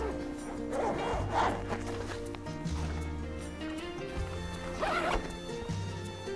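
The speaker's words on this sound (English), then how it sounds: "you're going to open the top of the zipper track, exposing just a small area" Several bursts of a tent rainfly zipper being pulled, quick rasping runs separated by pauses, close by over a faint background hum.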